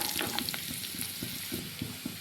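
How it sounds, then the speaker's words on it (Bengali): Chopped garlic and onion fry in a pan, giving a loud, close, continuous sizzle broken by repeated scraping stirs. "এবার এগুলিকে আরও 2-3 মিনিট ভেজে নিব।"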